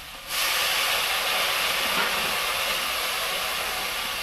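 Water poured onto ginger paste, ground coriander and cumin in a hot pan bursts into a loud, steady sizzling hiss that holds evenly without letting up.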